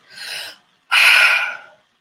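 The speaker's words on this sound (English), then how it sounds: "So take a couple of deep breaths." Two breaths during a guided meditation, a soft inhale followed after a brief pause by a louder, fuller exhale close to the microphone, with no talking.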